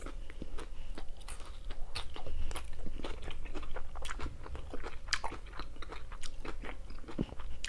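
Someone eating a salad with lettuce and plenty of red onion, close crisp crunching bites and chewing in a steady irregular rhythm, no talking.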